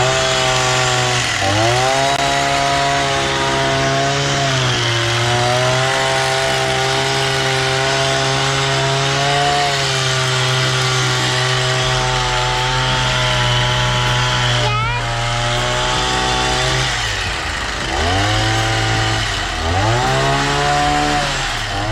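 A rebuilt Tanaka THT 2120 two-stroke hedge trimmer runs steadily for a long stretch at a loud, buzzing high idle, dipping briefly a few times before revving back up, close by.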